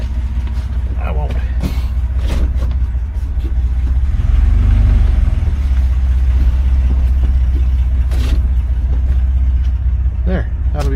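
A 1989 Dodge W100 pickup idling and creeping forward a few inches, its low engine rumble swelling briefly midway, with someone talking over it near the microphone.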